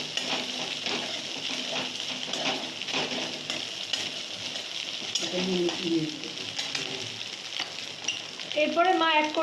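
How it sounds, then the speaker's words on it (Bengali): Egg being broken up and stir-fried in a hot pan for egg fried rice: a steady sizzle with repeated scraping stirs throughout, a faint voice in the background. "দেখুন ডিমটা ছোট ছোট করে নিচ্ছে মা।"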